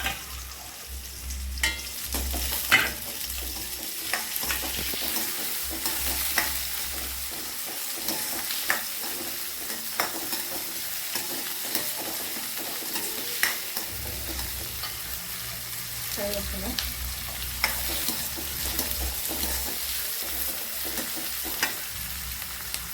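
Steady sizzling of chopped large onions frying with salt in a pan, with occasional stirring clicks and scrapes, close and continuous, no talking.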